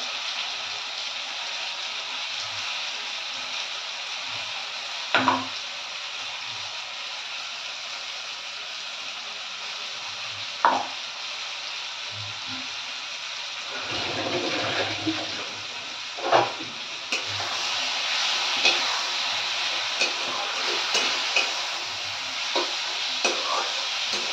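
Spice paste for Bengali fish kalia sizzling in a pan, a soft continuous fry hiss with a few sharp clatters of stirring or utensils, fairly quiet and close.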